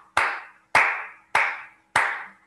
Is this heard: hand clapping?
yes